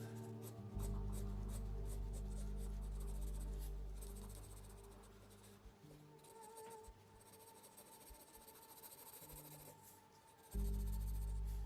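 A pencil shades an anime sketch on paper with repeated scratchy back-and-forth strokes, close and soft, punctuated by brief pauses and a faint low hum.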